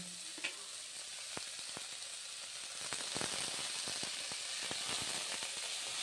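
Bottle gourd peel fries with onions in a pan, giving a continuous sizzle under many sharp crackles and stirring taps that grow slightly louder partway through, close and alone.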